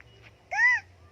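A person's voice imitates a crow's caw with a single short, nasal call lasting under half a second, close and fairly loud against an otherwise quiet room.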